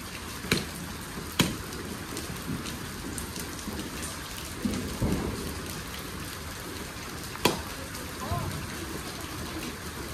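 Steady rain patters on a surface during a Diwali Lakshmi Puja, with a few sharp knocks and faint voices in the background; no clear thunder rumble stands out.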